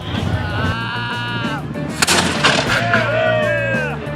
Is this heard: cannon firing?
yes